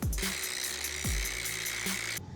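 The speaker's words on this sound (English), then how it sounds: "If you guys are enjoying watching me grind this pipe" An angle grinder working steadily on a metal pipe in an abandoned backyard fallout shelter, giving a continuous high whine that stays loud and even before cutting off abruptly at the end.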